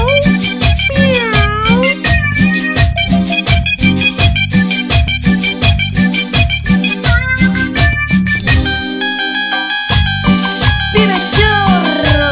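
A singer imitates a cat's meow within a loud Argentine cumbia song, repeated voiced meow-like cries riding over a steady rhythmic beat and full band throughout.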